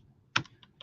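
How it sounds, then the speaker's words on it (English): A few quick keystrokes on a computer keyboard while entering a web search, one sharp clack followed by lighter taps, close and fairly quiet with no talking. "Let's see. I'm typing."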